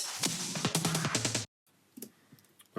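A second drum fill sample plays as a dense, bright run of quick snare-like hits for about a second and a half, stops abruptly into silence, then leaves faint scattered ticks and one more soft hit at the end.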